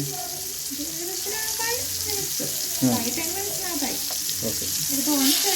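Prawns fry in a pan with a continuous close sizzle and hiss while a person talks over the cooking.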